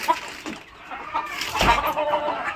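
Hens cluck close by on a farm that keeps local chickens and quail, with short irregular clucks and a louder burst partway through and no talking.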